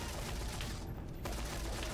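Continuous gunfire from a weapon in Dead Rising 3, a steady loud stream of rapid shots that drops out briefly midway and then resumes, with no talking.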